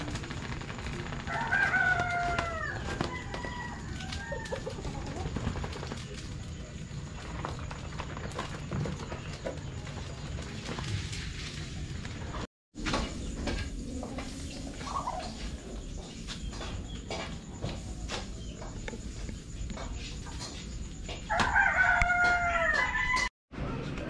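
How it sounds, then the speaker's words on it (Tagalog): A rooster crows loudly near the start and again near the end, with hens clucking and outdoor ambience throughout. "Ayan pa yung manok."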